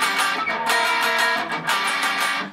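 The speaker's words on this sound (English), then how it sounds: "diminished kind of flattened 5th power chord that sounds like this." Electric guitar rings out a clashing diminished, flattened-fifth power chord from a song, played loud and sustained with repeated strums and no talking.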